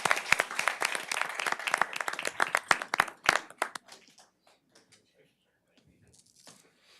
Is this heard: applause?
yes